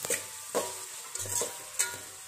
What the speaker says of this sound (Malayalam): ഇതിട്ട് അതിലേക്ക് ആവശ്യത്തിനുള്ള ഉപ്പും ഇട്ടിട്ട് നമുക്കിതൊന്ന് നന്നായിട്ട് വഴറ്റിയെടുക്കാം